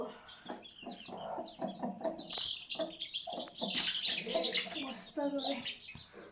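Chickens on a home farm cluck and chirp nearby, mixed in with people talking.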